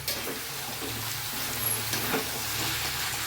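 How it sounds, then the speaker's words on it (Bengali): Spice paste sautéing in a pan for a vegetarian jackfruit and paneer curry, a soft, continuous sizzle and hiss with faint stirring scrapes, close and steady throughout. "আমি মশলাটা একটুখানি কষাবো"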